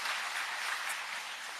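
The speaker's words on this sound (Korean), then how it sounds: "빨리 쾌차라는 의미에서 박수 한번 좀 보내드릴까요?" An audience at an outdoor prayer rally for the nation gives a round of applause, a dense, steady wash of clapping heard at a moderate distance.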